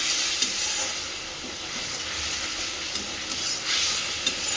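Chili powder and turmeric frying in a pan for an egg do-pyaza curry, giving a steady soft sizzling hiss throughout, with faint stirring clicks and no talking.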